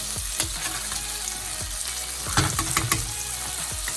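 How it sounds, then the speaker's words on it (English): Steak sizzling in a hot pan while a spoon bastes it with melted butter, a steady crackling fry broken by sharper spoon taps and splashes, close and continuous with no talk. "we're just going to take a spoon and we're just going to baste our steak, get all that lovely butter"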